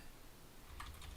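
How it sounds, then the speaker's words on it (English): Someone types an email address on a computer keyboard: a quick run of soft, close key taps in the last half-second, under a faint steady hiss. "And while we're waiting, I'll type my email"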